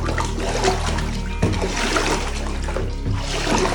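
Water waves wash and splash steadily against a toy Lego boat, a continuous sloshing, close and fairly loud, with a few sharper splashes.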